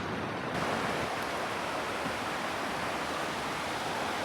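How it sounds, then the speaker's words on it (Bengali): Cold stream water at Rangpani, flowing down from Meghalaya, rushes steadily over stones in a dense, continuous wash of sound that stays close and loud for the whole stretch, with no voices. "আর একদম কলকল ধ্বনি কারণ হচ্ছে পাথরের পাথরের উপর দিয়ে পানিগুলো আসতেছে"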